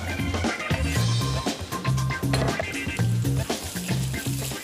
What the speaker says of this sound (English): literally just stir frying this. It's not going to take long to cook in this kadai